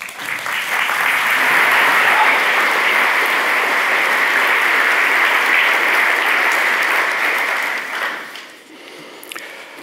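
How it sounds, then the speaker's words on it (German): A conference audience at an energy forum breaks into sustained, dense applause that holds steady for several seconds before tapering off, with no voices over it. "ich bitte Sie, liebe Gäste, um einen freundlichen Applaus"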